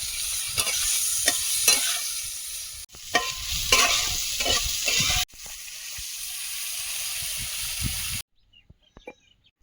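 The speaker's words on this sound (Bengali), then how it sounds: "এক চিমটি হলুদ গুঁড়ো জিরে গুঁড়ো উচ্ছেটা দিয়ে আর একটু ভেজে নেবো" Bitter gourd frying in a pan with a pinch of turmeric and cumin powder, a loud close sizzle broken by scraping stirs and abrupt cuts, ending in near silence with faint clinks.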